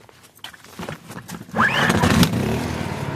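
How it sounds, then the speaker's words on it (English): A portable generator at a cabin rental pull-started by hand, a scraping cord pull followed by the engine catching and firing up into a loud, steady rumble that keeps running. "with the generator, put the switch on start, give it a pull"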